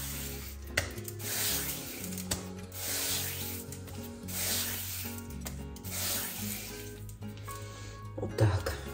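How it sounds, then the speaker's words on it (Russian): Non-iodized rock salt being rubbed by hand over a round of homemade Ossetian cheese, a close, steady gritty scraping with a few soft knocks, quiet and continuous. "смазывайте этой каменной солью без йода, не йодированной"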